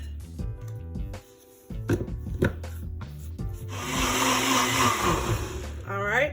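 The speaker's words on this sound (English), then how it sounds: "and then we're going to blend this together" A blender whirs through a thick vegan steak mixture: short bumps and rattles at first, then a sustained loud grinding roar that strains near the end.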